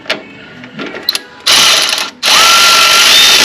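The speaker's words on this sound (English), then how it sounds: "having these cordless ratchets sure is handy" A cordless ratchet tightens a bolt on a Cub Cadet zero-turn mower during a hydro idler pulley replacement, starting with light mechanical clicks and then two loud, sustained motor whirs, close to the mic.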